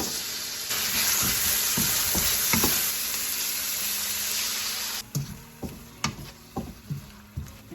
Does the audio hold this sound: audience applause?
no